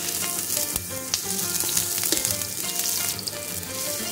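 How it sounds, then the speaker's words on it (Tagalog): Onions hit hot oil in a pan for squid adobo in coconut milk, giving a loud, continuous close-up sizzle with light stirring and no talking. "pag mainit na ang kawali at mantika natin, pwede na nating ilagay ang ating sibuyas"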